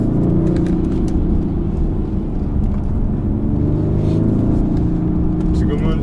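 A BMW M550d quad-turbo diesel car drives on a road at moderate speed, its engine a steady low rumble under continuous tire and road noise, heard from inside the cabin while someone talks over it.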